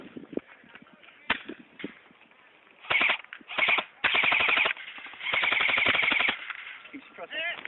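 Airsoft guns firing during an outdoor skirmish at a raided outpost, with scattered single shots, then rapid full-auto bursts of clattering pops, close and loud, as players shout over them.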